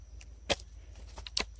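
The stock of a Kel-Tec SU16CA rifle being folded gives a few sharp metallic clacks and rattles, close by, with one louder snap partway through and lighter clicks after.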